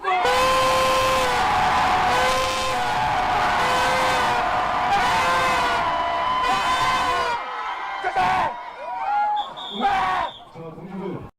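Large crowd at a labor strike rally shouting a unison cheer in repeated long rhythmic bursts, loud and sustained, then breaking into scattered whoops and yells toward the end.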